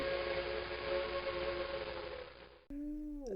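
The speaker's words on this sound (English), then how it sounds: "the sound of a distant whistle" A distant locomotive whistle sounds in a sustained, faint tonal blast over low rumble, breaks off, and then a second shorter whistle blast follows and bends downward in pitch.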